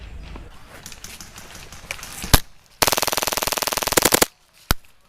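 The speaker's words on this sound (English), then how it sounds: "Blind firing! Dude, you can't blind fire" Airsoft guns firing blind in a skirmish: a few scattered shots, then a long rapid full-auto burst of sharp snapping pops lasting over a second, followed by a single loud crack, all fairly close.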